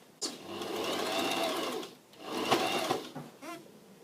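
A sewing machine edge stitching a patchwork pocket onto a vest, running in two steady whirring bursts separated by a short pause, close and clear, with no one talking.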